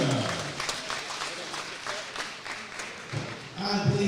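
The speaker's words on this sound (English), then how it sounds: "And please keep the applause going for Sam Payne." An audience at a youth and elite boxing championship applauds steadily throughout, a dense wash of clapping that swells near the end, with a voice speaking over it.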